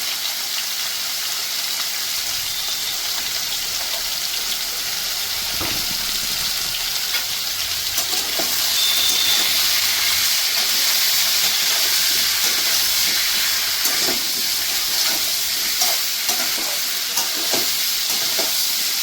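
Mixed vegetables sizzle and fry in a pan with turmeric and salt, a steady close hiss that holds throughout with faint clinks and stirring bumps, no voices.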